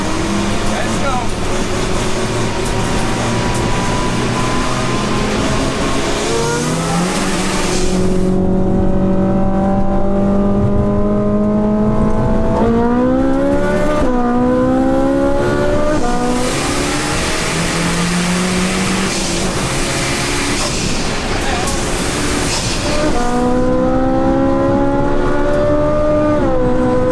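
A 700HP 1.9 TDI diesel and a 600HP 4.5-litre V8 Ferrari drag race on a loose surface. Loud engines climb repeatedly in pitch through gear changes, overlapping and roaring continuously.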